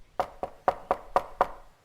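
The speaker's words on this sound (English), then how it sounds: "went over to the old house and politely knocked" Six steady knocks rap on the wooden door of an old house, evenly spaced and close, with no voices.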